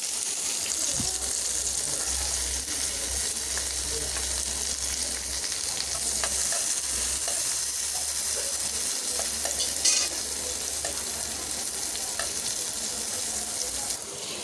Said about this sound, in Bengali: উপর থেকে দিয়ে দিচ্ছি হালকা করে লবণ এখন আমি এটাকে সম্পূর্ণটা ভেজে নেব